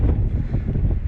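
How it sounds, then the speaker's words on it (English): Wind gusts on Rampart Range Road high in the Colorado mountains near Pikes Peak, a brief, steady low roar buffeting the microphone up close. "it's windy up here"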